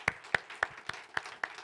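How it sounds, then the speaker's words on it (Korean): A church congregation at a Korean Sunday worship service claps in thanks. About seven crisp claps land in a steady, even beat a quarter second apart, fairly close and moderately loud. "우리 하나님께 감사의 박수 올려드리면 좋겠는데요."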